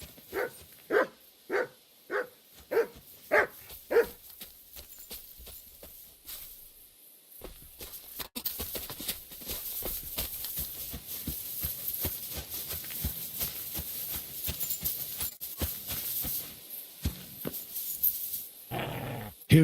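Dog barking and growling in the video game Kingdom Come Deliverance 2: a rapid series of about seven loud, evenly spaced barks, then a pause and a long stretch of low, rumbling growl with footsteps and scuffling.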